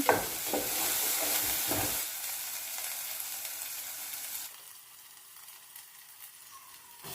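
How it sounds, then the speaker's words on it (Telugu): Ginger garlic paste and turmeric frying in a pan while being stirred, a loud sizzle with scraping strokes at first that settles into a quieter steady hiss, with no talking. "అల్లం వెల్లుల్లి పేస్ట్ వేగింది. ఇప్పుడు ఇందులో పసుపు వేసుకొని కలుపుకోవాలి."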